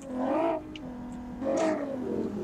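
A car engine in the Roblox video game swells up and settles back twice in steady, close, synthetic-sounding rumbles with no talking.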